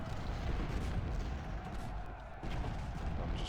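Gunfire and cannon fire in the Civil War strategy video game Ultimate General: Civil War at Fredericksburg, a dense continuous rumble of distant battle with overlapping low booms and muffled volleys.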